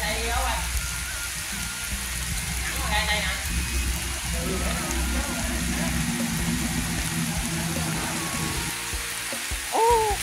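Steady rain falls over a coconut grove during a rainy-day coconut harvest, a continuous broadband hiss with faint distant voices and a brief close sound near the end.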